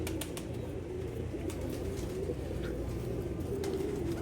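A pigeon coos softly and repeatedly over a steady background hiss, the low rounded calls recurring in short phrases at moderate distance.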